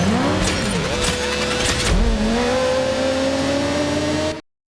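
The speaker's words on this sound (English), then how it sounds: "I just pulled a lot of different car sounds in for this." A car engine revs hard for CyberRush, a racing roguelite game, with layered rising and falling pitch sweeps, a loud sustained whine climbing steadily, then an abrupt cutoff near the end.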